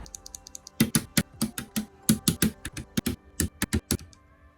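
Brisk typing up close on a Monsgeek MG75 mechanical keyboard, a quick irregular run of sharp clacky keystrokes with brief pauses, no voices.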